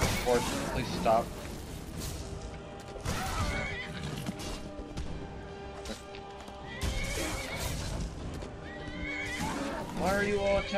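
A horse in the video game Skyrim neighs and whinnies loudly again and again, with hoofbeats, combat clashes and game noise mixed in.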